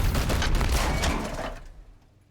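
Gunfire in Warhammer 40,000: Chaos Gate - Daemonhunters, a loud close burst of rapid shots merging into one roaring volley that fades away within about two seconds, with no talking.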